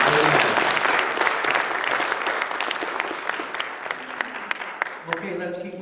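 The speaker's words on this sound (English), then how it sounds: "give him a great big clap offering" A church congregation claps steadily through a service, dense applause at close range with a few sharper individual claps standing out, thinning near the end as talk resumes faintly.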